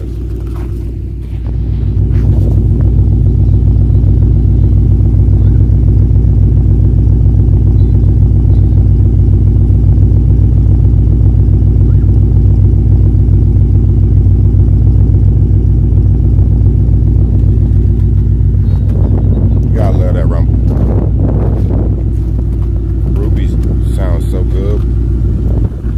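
Ford Mustang with a cold air intake and performance tune idling with a deep, loud, steady rumble, then revving in short bursts near the end, recorded close.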